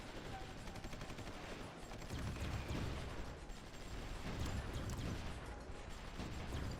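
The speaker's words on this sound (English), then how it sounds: "Still doing some bombardment there." Artillery bombardment in a war strategy video game, a dense continuous rumble of overlapping distant blasts and crackling fire, with a voice faintly present beneath.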